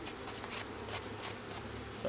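Honeybees buzz around a hive as foragers return with pollen and nectar, a soft continuous hum with brief swells as individual bees fly past close by.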